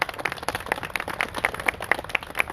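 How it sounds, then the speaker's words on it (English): An audience claps at a Pride Week flag-raising event in Cochrane, a scattered, moderately distant round of applause with individual hand claps standing out and a faint steady tone in the background. "You guys should give yourselves a round of applause for that."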